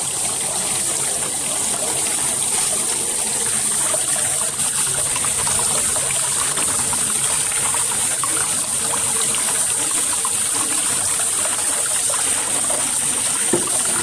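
A homemade garden water fountain runs with a steady, close trickling and splashing flow that stays even and unbroken throughout, with no voices.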